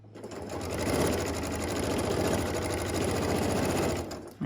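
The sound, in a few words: sewing machine sewing fabric squares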